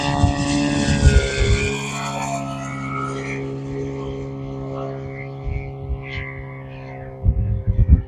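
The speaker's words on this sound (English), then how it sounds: "This motor definitely turning a lot slower with this big 3-blade." An RC F4U Corsair model plane with a DLE 222 gas engine swinging a big three-blade prop drones loud and steady overhead, its low throaty engine tone holding throughout with gusty rumbles near the start and end.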